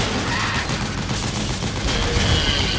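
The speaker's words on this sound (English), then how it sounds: "an APC with a fucking machine gun with an old man shooting it on top" Rapid machine gun fire from an APC-mounted gun in Metal Gear Solid 4, a sustained, loud, close burst of overlapping shots with no talk.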